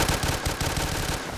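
Rapid gunfire from single-fire guns such as the M1 Garand in a shooter video game, heard as a dense, loud burst of shots close together over about one and a half seconds, with no talking.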